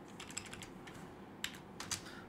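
Quick clicks of a computer keyboard during C# programming work, a few scattered keystrokes at low level against quiet room hiss.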